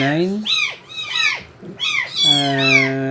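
Kittens mewing in a quick run of high, bending cries, several overlapping and close, with brief pauses between bursts and a longer drawn-out mew at the end.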